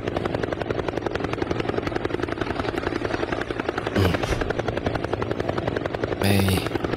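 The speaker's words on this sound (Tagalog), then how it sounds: "May helicopter." Helicopter flying overhead outdoors, its loud rapid rotor chop pulsing steadily and close throughout, with a couple of brief voice sounds over it.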